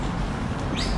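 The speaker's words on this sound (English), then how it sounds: "You can hear the birds right now." Birds chirp over steady outdoor background noise on a morning art walk in Philipsburg, with a brief rising call near the end.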